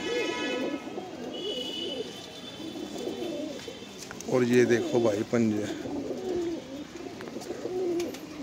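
Punjabi Malwai pigeons coo in a low, repeated murmur on a rooftop in Chhatarpur village, Delhi, with one louder burst of cooing midway, while someone talks over them throughout.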